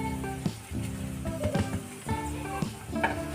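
Ivy gourd (tondli) frying in a pan gives a steady close sizzle, with stirring scrapes and brief bursts of louder crackle throughout, over a layer of sustained tonal sound.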